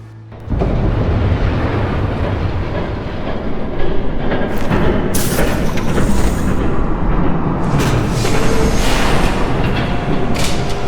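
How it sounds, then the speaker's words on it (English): A train thunders past in a Batman: The Telltale Series game scene, starting abruptly and roaring loud and continuous with rattling clatter and metallic bursts layered through. "There's a train coming."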